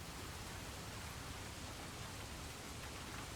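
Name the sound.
rain sounds in a video game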